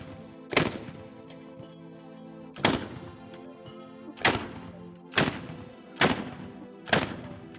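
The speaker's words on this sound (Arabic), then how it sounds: "بإطلاق 8 طلقات. مدفع واحد إلى جميع المدافع. 3 2 1 مدفع ارمي." Ceremonial Ramadan cannon in Bahrain fires six loud, booming shots about every one and a half to two seconds, each a sharp blast with a short rumbling tail, and no voices.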